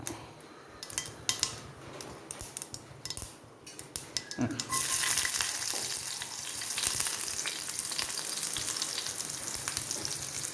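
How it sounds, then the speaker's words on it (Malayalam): Onions drop into hot oil with popped mustard seeds in a cooking pan for a pumpkin-leaf thoran. A brief clatter gives way to a steady, close, continuous sizzle. "ഇനി നമുക്ക് ഉള്ളി ഇട്ട് കൊടുക്കാം"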